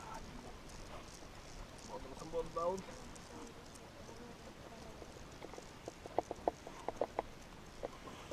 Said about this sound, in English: A third must hold the horse, which snorts uneasily as it feels the pressure of the girths